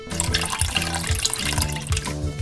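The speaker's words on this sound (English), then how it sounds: "I pissed on the bomb because I drank water." Video game character urinating on a bomb in McPixel 3, a steady splashing liquid stream with dense hiss over a looping rhythmic game music bed, continuous and close.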